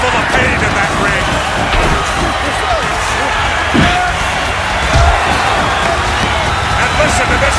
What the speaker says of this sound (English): listen to this capacity crowd coming to their feet almost.